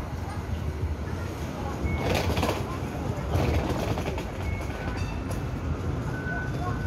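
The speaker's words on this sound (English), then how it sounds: "And the other train is coming too." A Hong Kong light rail train rolls steadily along the rails at Tin Sau stop, Tin Shui Wai, with a constant rumble and faint clatter, loud and close, with a brief high squeal partway through.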